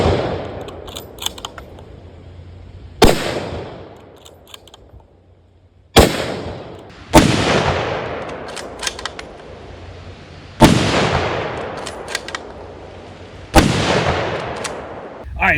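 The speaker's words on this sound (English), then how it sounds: "I love that gun. It's a great hunting rifle." Hunting rifle shots fired at Guard Dog armor plates, five loud, sharp reports spaced several seconds apart, each with a long rolling outdoor echo, with faint voices between shots.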